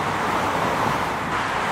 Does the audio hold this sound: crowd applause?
no